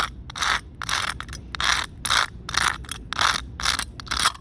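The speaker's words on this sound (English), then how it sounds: "Next we can grind down these little edges. I just use like the street for it." An aluminium can stove's edges are ground against street pavement in repeated rhythmic scraping strokes, about nine harsh rasps close up, each separated by brief pauses.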